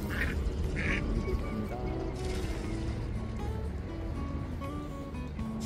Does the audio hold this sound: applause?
no